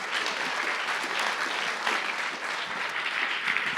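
Steady audience applause fills the room at a town-hall style talk on religion and politics, a dense, even wash of many hands clapping at moderate distance for nearly four seconds with no voices over it.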